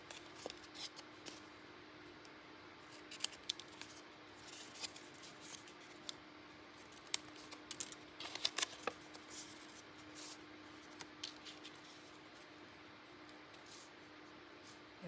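Scissors snip and crinkle through junk mail envelope paper, soft irregular cuts and rustling scattered over a quiet room, with a faint steady hum and no talking.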